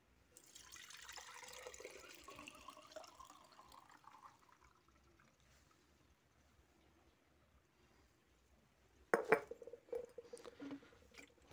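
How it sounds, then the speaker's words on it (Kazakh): Soft trickling of a homemade anti-pest solution for houseplants being strained through water at first, then a louder burst of splashing and dripping near the end, quiet overall. "Осы суменен қазір сүзіп аламыз"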